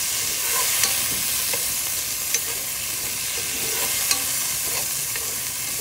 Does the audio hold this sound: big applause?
no